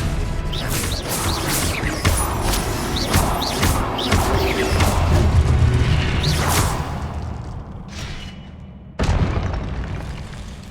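Spells are cast in Hogwarts Legacy: Expelliarmus, Confringo and Stupefy. Rapid whooshing casts and crackling impacts build into loud booming explosions, then a sudden final blast hits after a brief lull.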